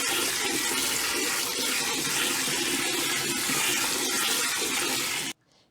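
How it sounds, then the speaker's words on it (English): Soaked sea moss is rinsed under a steady, loud stream of running tap water that rushes without a break for several seconds, then stops abruptly. "I'm going to rinse it really well"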